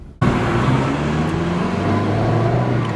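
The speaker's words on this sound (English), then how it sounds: "Let me see the engine." A Ferrari sports car engine roars in steadily after a sudden start, a loud, sustained low drone that holds at an even level, with no voices.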